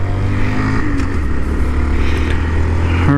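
A 2019 Honda Monkey motorcycle engine idles with a steady, close, low thrum and even harmonic drone throughout, with no talking.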